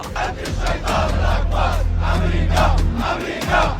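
A huge crowd at the funeral procession for Ali Khamenei in Iran roars in rhythmic mass chanting, loud and dense, with repeated surges of massed voices over a deep, steady rumble.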